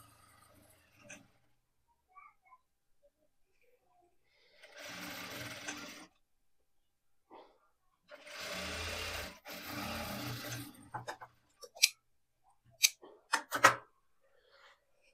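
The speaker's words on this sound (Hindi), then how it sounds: "यहाँ पर फिर एक पैर से थोड़ा सा ज्यादा रख के हम इसको सिलाई लगा लेंगे कुछ इस तरीके से" A sewing machine stitching kurti fabric runs in several short close bursts of rapid whirring, separated by quiet pauses filled with small handling clicks and taps.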